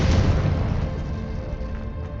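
An explosive Confringo spell blast in Hogwarts Legacy, a loud deep boom with a rumbling tail that fades over a couple of seconds.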